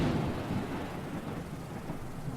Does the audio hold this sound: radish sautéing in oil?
no